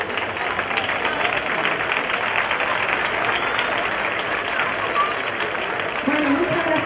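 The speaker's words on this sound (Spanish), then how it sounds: "un aplauso, a ver" A crowd at a fair opening ceremony with a pregón and chupinazo applauds a children's peña, loud sustained clapping with faint voices mixed in.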